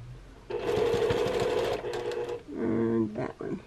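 A sewing machine stitches a quilt block in close, loud bursts, running steadily, pausing briefly, then running again, with someone speaking between runs.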